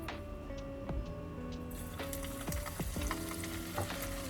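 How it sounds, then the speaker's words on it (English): Anchovies fry in oil that was first used for peanuts, for nasi lemak, a quiet bubbling sizzle dotted with light ticks and clicks from the pan, with no voices. "And now use the same oil to fry the anchovies."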